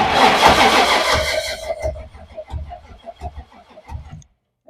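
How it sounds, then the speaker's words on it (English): A 1962 Ford Falcon gasser with a cold engine and no spark cranks slowly without firing, a loud clunky starter burst followed by an uneven rhythmic chug that fades out, close to the car. "It sounds clunky. I think it's just because it's cranking over slow."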